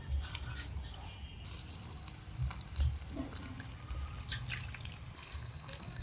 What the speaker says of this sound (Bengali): কড়াইতে সাদা তেল দিছি, তেলও গরম হয়ে গেছে, এখন একে একে সবগুলো ভেজে নেব